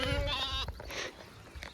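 A billy goat lets out one loud, close bleat with a strong harmonic tone that lasts just over half a second, then fades into quieter farmyard noise.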